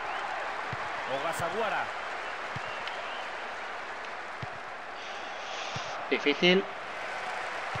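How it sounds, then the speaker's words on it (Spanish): Crowd applause in the PES 6 football video game during a Japan versus Spain World Cup match, a steady stadium wash of clapping under game commentary, with a short louder burst of claps near the end. "qué pesan los japoneses, cada vez que hacen algo aplauden"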